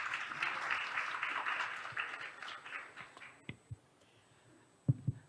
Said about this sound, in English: Please welcome her on the stage with a round of applause.